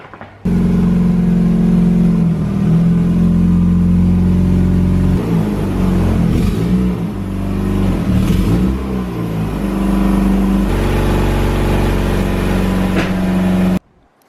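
A Mazda RX8 with its rotary engine drives in close by, humming steadily with a strong low drone and occasional revs that rise and fall before the engine cuts off abruptly.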